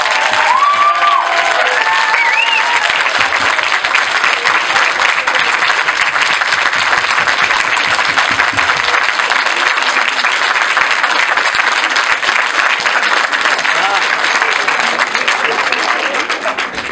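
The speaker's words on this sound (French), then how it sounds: "Je vous demande d'applaudir extrêmement fort" A crowd gives Grant Wilson a long, loud round of sustained clapping with some cheers, and one voice rises briefly near the start.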